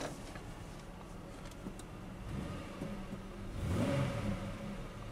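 Engine of a back-lot used car idles faintly and quietly with a low hum, briefly swelling as it revs slightly near the end.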